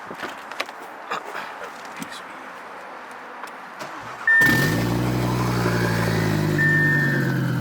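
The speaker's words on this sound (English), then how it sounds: "I'm gonna try turning on the car right now" After a few seconds of quiet background noise, a car engine abruptly fires on the first try and holds a loud, steady idle up close, with a faint whine rising over the running engine.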